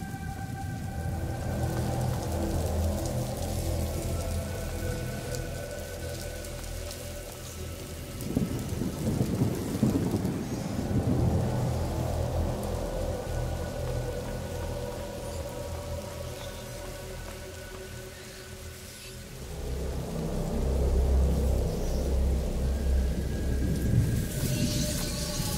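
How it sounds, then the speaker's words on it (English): Heavy rain and rolling thunder in A Plague Tale: Innocence, a constant wash of rain with deep rumbles swelling and fading twice, loud and enveloping with a steady tonal drone in the background. "Lucas, Hugo, stay out of the rain."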